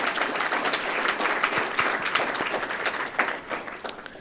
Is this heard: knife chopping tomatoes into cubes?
no